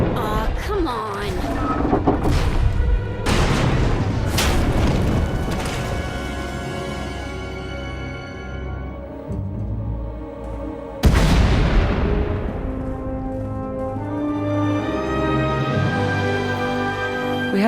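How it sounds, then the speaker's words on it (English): Heavy booms and blasts in a Star Wars: The Old Republic video game burst out in a couple of loud waves, each one trailing off into rumbling debris and ringing tones. "We heard explosions."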